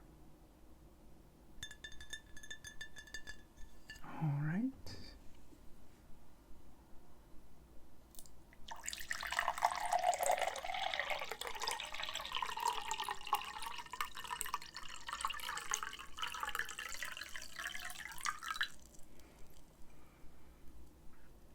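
A brief clink of glassware, then a few seconds later water runs from a tap for about ten seconds, splashing steadily before shutting off.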